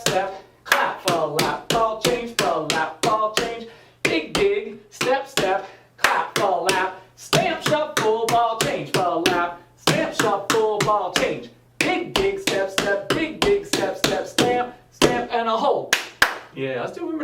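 Tap dance steps, flaps, ball changes, digs and stamps, ring out as sharp, rhythmic metallic taps in quick bursts, nearly continuous under a voice calling out the counts.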